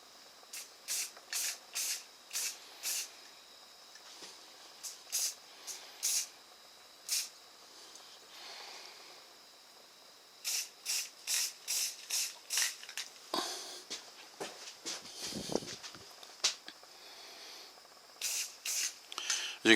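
A spray can coats a part in a makeshift home setup, with short bursts of hissing spray repeated in quick rhythmic runs, pausing briefly, then resuming, all close and without talk.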